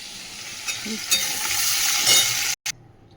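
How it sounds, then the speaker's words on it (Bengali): Pointed gourd (potol) with turmeric frying in hot oil, giving a steady, close sizzle. A few stirring scrapes and utensil clinks break through before the sound cuts off abruptly near the end. "হলুদ দিয়ে হালকা করে ভেজে নিই পটলটা"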